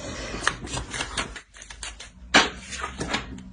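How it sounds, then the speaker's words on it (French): A tarot card being drawn and placed on a table, with dry papery sliding and a couple of taps, close and fairly loud, with no talking. "On va rajouter une carte."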